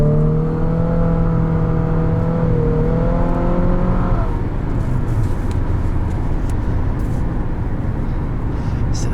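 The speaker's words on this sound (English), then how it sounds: "So let's go see what this power had." A 2021 Infiniti QX50 Luxe under full-throttle acceleration, a loud steady engine drone rising in pitch for about four seconds before shifting into a dense, roaring rush of engine and road noise.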